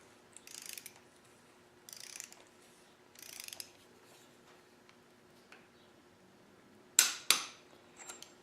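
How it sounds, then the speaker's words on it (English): Torque wrench tightening injector bolts to spec on a Cummins diesel engine: a few separate ratcheting bursts followed by two sharp clicks near the end, close and fairly quiet, with no talking. "you go ahead and torque these down to 44 foot-pounds"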